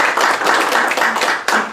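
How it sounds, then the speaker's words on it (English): Loud, dense round of applause from guests at an awards reception, a close and continuous patter of many hands clapping with a few sharper bursts. "let's go ahead and have a round of applause"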